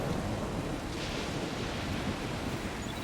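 Loud, steady roar of a thunderstorm in the video game Death Stranding, dense rumbling noise with heavy wash throughout and a swelling surge near the middle, no voices.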